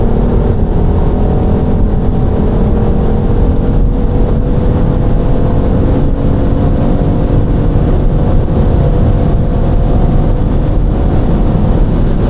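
A BMW X3 M50 accelerating hard on smooth asphalt, its engine a loud, continuous droning roar heard from inside the car, with the pitch slowly rising throughout and no talking.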